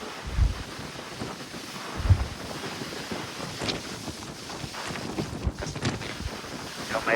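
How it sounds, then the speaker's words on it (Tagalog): Strong wind buffeting the microphone on the open deck of a cruise ship at sea, with gusty low roaring and rushing air throughout, with no one speaking. "Lakas ng hangin."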